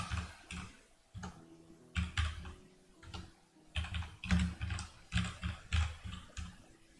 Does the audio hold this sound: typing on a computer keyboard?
yes